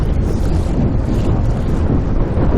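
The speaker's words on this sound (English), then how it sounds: "It's quite blowy today, but it's very nicely protected." Strong wind buffets the microphone aboard a sailboat near islands, a constant loud roaring rumble throughout with no talk.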